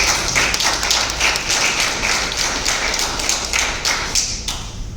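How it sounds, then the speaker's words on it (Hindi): Audience at a women's program event clapping together, dense sustained applause with crisp individual claps, fairly loud and close, tapering slightly at the end. "अपने लिए जोरदार ताली बजाइए सब लोग"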